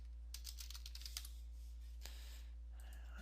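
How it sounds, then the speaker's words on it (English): Quick keystrokes on a computer keyboard in a short burst, then a few scattered clicks, close and fairly soft over a low steady hum. "we are going to type in .NET Framework."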